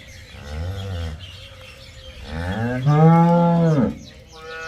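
A cow moos loudly several times at close range on a dairy farm, with long drawn-out calls that rise and fall, the last one the strongest.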